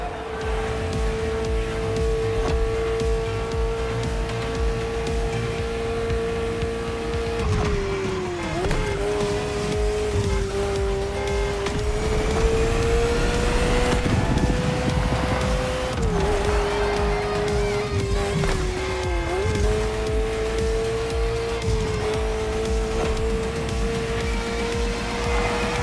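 A Ferrari F40 races in The Crew Motorfest, its engine droning steadily at high revs with brief dips and rises as it shifts through corners, loud and continuous with no talk over it.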